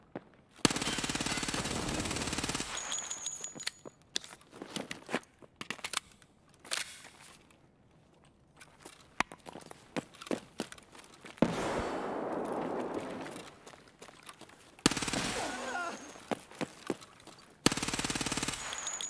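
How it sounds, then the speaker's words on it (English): Bursts of automatic gunfire and single shots in an Escape From Tarkov firefight at Interchange, loud and close, with long sustained rattling volleys, near silence between bursts, and no speech. "Currently in a gunfight."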